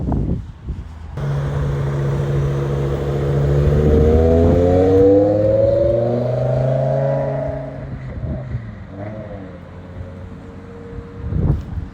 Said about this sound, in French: Oh, le V10. Oh, le son. M5E60, très très cool ça.